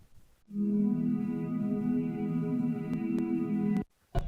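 A sustained, smeared pad of stretched guitar tones holds steady for a few seconds, warm and droning, then cuts off abruptly before a brief final swell.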